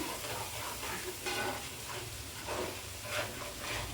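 Telugu-style fish curry (chepala pulusu) stirred and scraped in a hot pan: steady sizzling hiss with repeated soft scraping strokes, close and continuous, no voices.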